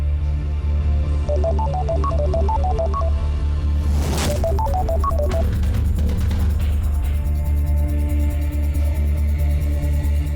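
A telephone plays a melodic electronic ringtone in two bursts of stepped tones over a constant low hum, with a sharp noisy clatter between them.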